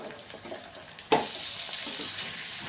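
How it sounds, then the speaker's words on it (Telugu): Capsicum and onions fry in hot oil, a soft hiss before a sudden loud sizzle that holds steady to the end, with no talk. "ఇవి చక్కగా వేగాలి నూనెలో"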